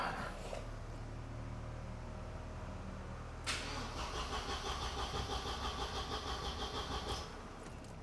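A 1987 Mercedes-Benz 190E engine cranking with a whirring starter, then catching and settling into a steady, rhythmic idle for several seconds before easing off.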